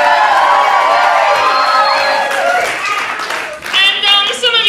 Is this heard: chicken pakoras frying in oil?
no